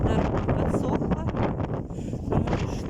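Strong gusting wind buffets the microphone on a seafront in Anapa during a storm with gusts near 18 m/s, a loud continuous roar under a man's speech throughout.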